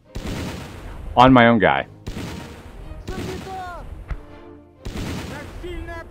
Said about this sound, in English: We'll just take them on with artillery.